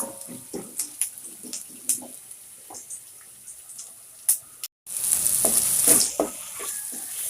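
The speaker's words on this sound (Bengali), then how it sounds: "পেস্টটা ভাজা ভাজা হওয়ার পরে সব মর মশলা দিয়ে দিচ্ছি" Spice paste frying in a pan, with intermittent sizzles and scraping stirs, then after a brief gap a louder continuous hiss of frying close by.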